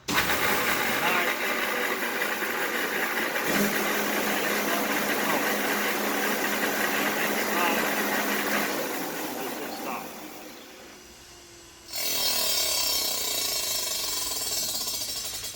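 Fabric roll slitting machine running after start is pressed, a loud continuous mechanical roar with grinding, rattling texture that dips briefly as the cut slows, then surges back to full volume.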